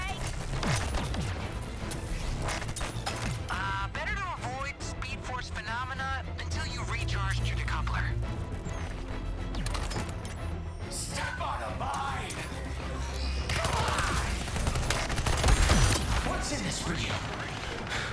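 Gunfire from a video game played on an Xbox Series S crackles in bursts amid mechanical clatter and busy game sounds, with people talking over it.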